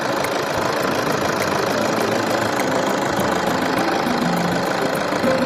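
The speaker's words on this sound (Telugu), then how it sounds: "ఇంజిన్ స్టార్టింగ్లోనే మీకు ఇప్పుడు వినిపిస్తుంది." A 2015 Toyota Innova diesel engine with about 130,000 km idles steadily, close and loud, with a continuous low rumble and fine rhythmic ticking throughout, no talk.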